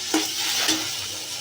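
Tomatoes fry in a pan with a continuous close sizzle, punctuated by two quick scraping stirs of a spoon against the pan.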